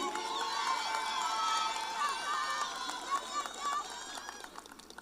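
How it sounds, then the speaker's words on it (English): A secondary school graduation crowd cheers and shouts teachers' names for several seconds, a dense wash of many voices and calls that fades a little toward the end. "Give them a lusty round of applause right now and call their name loud."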